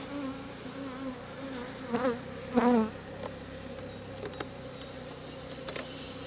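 Honey bees buzz steadily around an open hive during a UK hive inspection, a dense droning hum with a few louder, rising passes of individual bees close by, and no talking.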